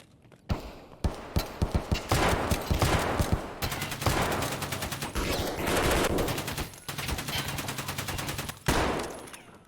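Escape from Tarkov gunfire shot from the hip comes in rapid close bursts, first a string of sharp separate shots and then dense sustained fusillades with short pauses between them.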